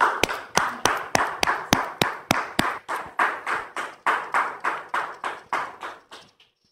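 Studio audience welcomes a guest with a regular, evenly spaced series of sharp claps, about three per second, close and distinct, fading out at the end.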